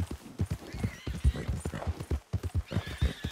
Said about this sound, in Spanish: Está indomable, caballo, está indomable.